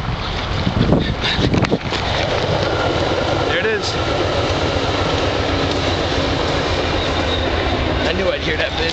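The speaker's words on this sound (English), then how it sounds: "Oh, there's a train." A continuous loud rumble of a train rolling past on rails near a derelict chemical plant in Naugatuck, with a few metallic squeals, steady throughout the clip.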